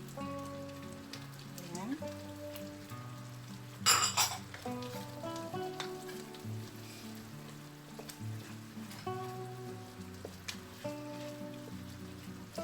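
Bacon sizzles and crackles steadily in a pan for a carbonara, with a louder clatter of utensils partway through, under music and a brief spoken word.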